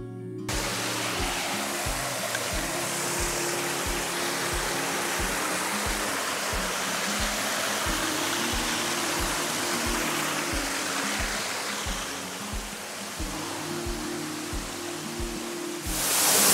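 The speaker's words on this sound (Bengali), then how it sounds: "আর দূর থেকে শুনতে পাবেন ঝর্ণার শব্দ," Shilbunia waterfall in the Alikadam hills roars with a steady, loud rush of falling water that runs unbroken throughout, with no voices over it.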